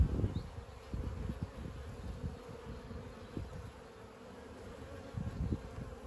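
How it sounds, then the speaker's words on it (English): Honeybees swarm around an open hive during an inspection, giving a dense, steady buzzing hum close by with a few soft thumps and knocks mixed in. No one speaks. "Number of bees in this hive have increased a lot."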